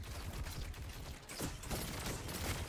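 Rapid pulse rifle fire in the shooter game Destiny 2, using the Disparity pulse rifle: dense, continuous bursts of gunshots that blend into a steady, loud crackle across the whole stretch.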